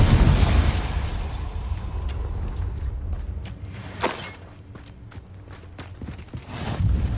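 A Confringo spell blast in Hogwarts Legacy bursts loudly at the start and decays into crackling debris, followed by a sharper pop midway and scattered footsteps amid game ambience.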